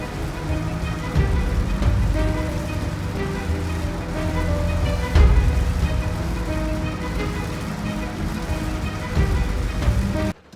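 Pouring rain drums steadily on a vehicle during a long highway drive, a dense continuous wash with road rumble underneath and no voices.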